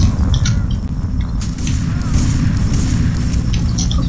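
A shotgun fires in the video game FEAR 3 amid a loud, dense booming rumble, with one sharper blast standing out in the middle of the roar.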